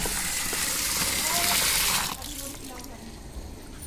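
Water gushes loudly from a tap into a bucket at home, a dense steady rush that abruptly drops off after about two seconds, leaving quieter trickling and background sounds.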